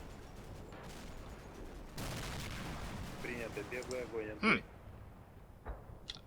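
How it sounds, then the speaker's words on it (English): Enemy mortar shells land in the wargame Combat Mission: Black Sea, a scatter of distant thuds and crackling blasts with one sharp louder impact, heard under someone talking. "That's enemy mortars landing down there."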